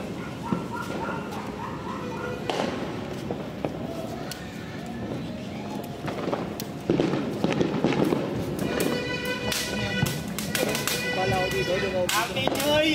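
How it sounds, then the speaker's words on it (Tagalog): Firecrackers go off on New Year's Eve in the Philippines: repeated sharp cracks and pops, some close and some farther off, with a denser burst of rapid bangs toward the end and people talking throughout. "May paputok pa dyan si Kahit."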